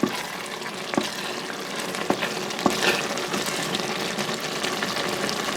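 Sloppy joe sauce boiling hard in an Instant Pot, a dense continuous bubbling sizzle with a few faint taps and clicks scattered through it.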